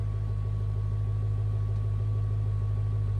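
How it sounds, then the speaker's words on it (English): A Porsche 944 engine runs with a steady, low droning hum, even and unbroken, heard close but fairly quiet with no talk. "You can hear the note change in the engine there."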